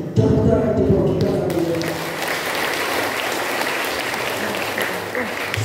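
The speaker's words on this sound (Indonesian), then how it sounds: "Tepuk tangan untuk kita." A church congregation at a Christmas Day Mass breaks into sustained applause, a broad steady wash of many hands, with a voice speaking over the first second or so.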